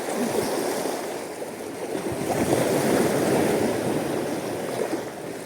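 Ocean waves wash and surge at a marina resort while fishing, a close, continuous rushing swell that rises and falls, with some wind noise and no voices.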